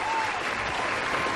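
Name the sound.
audience applause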